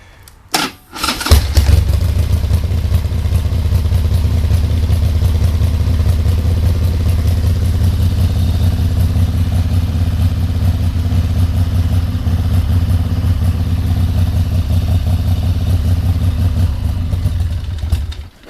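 A Harley-Davidson motorcycle engine starts with a sharp bang and then runs at a steady, loud, low rumbling idle for the remaining fifteen seconds, close and continuous with no talk.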